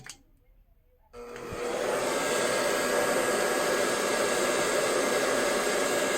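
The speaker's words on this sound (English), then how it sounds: "Blow dry." A hair dryer blows on a bald cap, switching on after about a second of near-quiet and then holding a loud, steady, close-up whoosh to the end.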